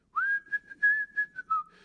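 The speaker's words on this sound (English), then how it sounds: "like he's whistling the score that we just heard" Film characters whistle the movie's theme melody in a single clear, sustained phrase with a few short breaks, rising at the start and gliding down at the end, heard alone with no talking.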